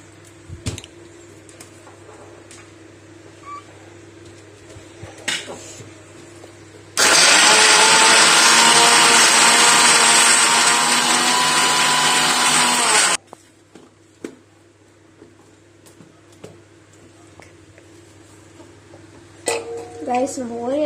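A mixer grinder whirs loudly and steadily for about six seconds as it blends an Oreo cake mixture, then cuts off abruptly. Quieter kitchen clatter and voices are heard before and after.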